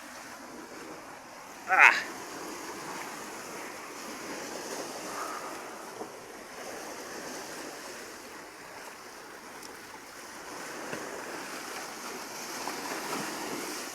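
Rough sea waves and wind make a continuous rushing wash, with a faint boat drone beneath and one brief exclamation from a person early on.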